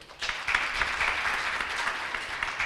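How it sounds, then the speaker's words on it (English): An audience at a retail industry conference applauds to welcome a speaker: steady, dense clapping that swells after a brief start and holds at a fairly loud, even level throughout, with no voices over it. "May I request you to kindly welcome him with a round of applause."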